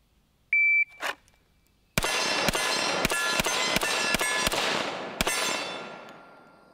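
Rock Island Pro Ultra Match 1911 .45 pistol with a 6-inch barrel fires a full magazine after a shot-timer beep, about eight loud, close, sharp reports at a quick, even pace with ringing echo trailing off.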